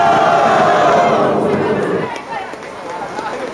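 A crowd roars and cheers at a Brazilian street rap battle, loud and close at first and then fading, with voices shouting over the noise.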